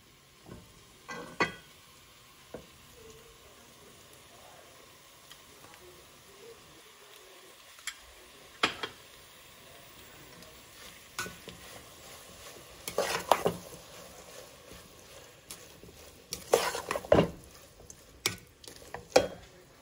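Schezwan sauce stirred into a hot pan for chicken egg fried rice, with a steady low sizzle and scattered sharp scrapes and clinks of a spatula against the pan, busiest toward the end.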